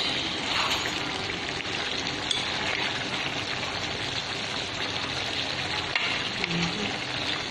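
Fish frying in a pan with cumin seeds, a steady loud sizzle and crackle of hot oil running continuously with no talk over it.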